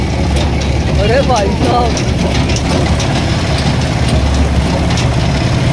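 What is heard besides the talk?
tractor engine running during a ride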